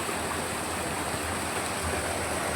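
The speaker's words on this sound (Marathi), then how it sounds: "ही नदी आहे" Continuous rushing of flowing river water in a Konkan village, a steady broadband wash without pauses, no voices.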